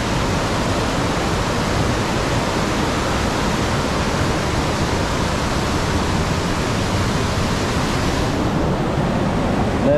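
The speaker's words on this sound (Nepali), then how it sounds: "हेर्नु न यस्तो खतरा पानी आइरहेछ नि" Rushing mountain stream or waterfall on a trek to Gosaikunda, Nepal, giving a steady, loud, broadband roar of fast water that runs unbroken throughout.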